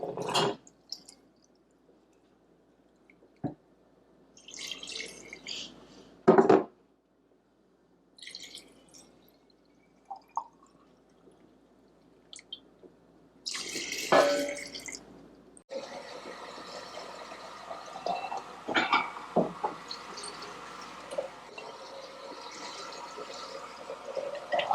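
Water poured from a container to top up canning jars packed with cranberries, heard as intermittent splashes and drips early on, then a steadier pouring and filling rush through the second half.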